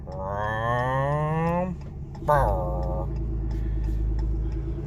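A RAM 3500 pickup truck in tow haul mode shifting gears during a left turn: a steady engine rumble runs underneath while a voice mimics the shift with two drawn-out, rising then dropping tones.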